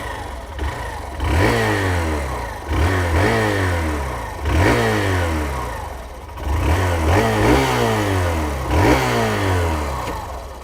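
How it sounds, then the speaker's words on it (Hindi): A Hero Glamour 125 BS6 motorcycle engine runs close by, its exhaust rumbling low, with repeated throttle blips that rise and fall about every two seconds. "इसके अलावा इसका एग्जॉस्ट भी हम लोग ज़रा सुन लेते हैं।"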